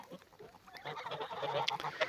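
Large domestic geese give a short run of nasal honks, close and fairly quiet, several calls overlapping in quick succession.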